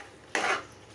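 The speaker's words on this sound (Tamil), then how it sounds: "போட்டு நல்லா கிண்டணும். நல்லா கிண்டிடுறோம்." A spoon scraping and clattering in a metal pot while chicken uppu curry with pepper and cumin powder is stirred, one short burst of close stirring lasting about a quarter second against a quiet kitchen.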